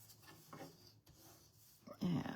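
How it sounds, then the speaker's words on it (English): Paper is creased with a bone folder while making a small Easter basket, giving a quiet rubbing and scraping that ends in a louder, firmer sweep. "give them a nice crease with the bone folder"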